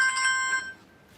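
A mobile phone rings with a bright electronic chime that cuts off after about half a second, leaving a quiet room.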